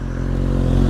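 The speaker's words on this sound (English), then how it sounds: "Let's hear a little rev. Give me a little rev." A motorcycle engine idles loudly and close up with a brief rev, a dense rumbling roar over a short moment with no talk.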